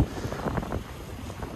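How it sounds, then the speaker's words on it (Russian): Gusty wind buffets the microphone in Donetsk in winter, with low rumbling bursts, strongest at the start and easing into a steady blustery roar. "А сейчас прямо аж так задувает хорошо."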